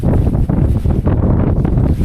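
Strong wind buffets the microphone on a high, misty rock summit at Illikkal Kallu, a loud, continuous low roar with gusty swells.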